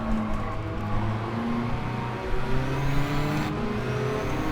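A race car engine in the video game Gran Turismo 7, running rough and misfiring, drones loud and steady with shifting revs, alone with no talk over it.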